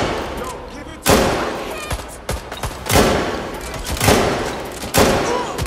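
Gunfire in the video game Watch Dogs Legion, several loud sharp bursts and volleys at irregular intervals with voices talking underneath.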